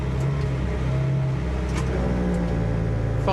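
A GT race car idles low and steady in the pit lane at the Navarra FIA GT Series, then finds first gear and pulls away. A dense, rumbling engine sits close and continuous throughout, with no voices.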